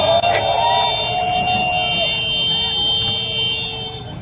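Heavy road traffic on EDSA at 3 a.m. rumbles as a steady drone, with a sustained horn blast tonal above it and a brief sharp honk near the start, while a voice talks underneath.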